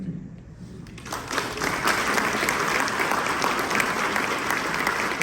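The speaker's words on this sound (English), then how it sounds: "Give him a round of applause." Audience at a 25th MLK celebration in Paradise Valley bursting into applause after a poetry and music performance, sustained dense clapping that starts abruptly and holds steady throughout.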